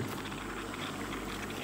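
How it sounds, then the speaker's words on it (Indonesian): Water boils in an electric lunch box with a steady, dense bubbling and hissing, close and continuous, with no pauses. "kita akan lihat dan airnya sudah mendidih"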